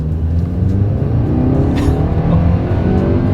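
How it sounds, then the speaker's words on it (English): A 2024 Nissan Sentra pulls away hard from a standstill, its engine droning steadily under load with broad road and wind noise, loud and close throughout without speech. "let's see how quickly we can get our new 2024 Nissan Sentra here up to speed"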